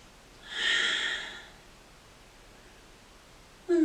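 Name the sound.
long exhale during yoga stretch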